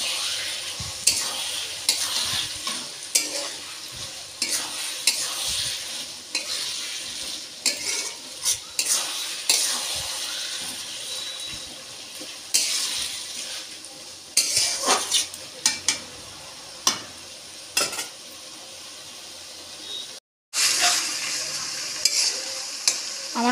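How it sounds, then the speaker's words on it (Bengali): Spinach and fish head curry stirred in a pan with a utensil, scraping and clinking against the metal in repeated strokes under a soft sizzle, close and steady with a brief pause near the end. "ধনেপাতা দেওয়ার পর আমি আবারও তরকারিটা একটু নাড়িয়ে নেব।"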